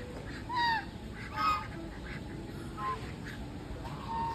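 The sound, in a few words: ducks quacking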